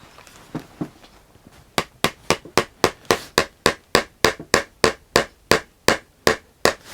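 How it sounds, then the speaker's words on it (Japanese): Gold brass decorative nails hammered into a stacked leather shoe heel top lift: a few tentative taps, then a steady run of about seventeen sharp, evenly spaced strikes, close and crisp, with no talk. "ここに金色の真鍮の釘打ち込んでいきます。"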